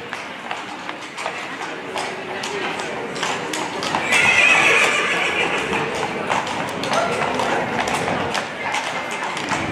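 Horses neigh and hooves clip-clop among a noisy crowd at the Sant Antoni Abad horse festival in Olot, where a group of about thirty horses passes by. The sound is continuous and close, and an announcer talks over it.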